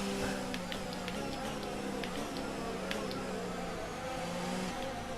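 An F1 2019 race car weaving to warm its tyres at the French circuit hums steadily, engine tone wavering slightly as it swerves, with faint clicks over a constant mid-level drone.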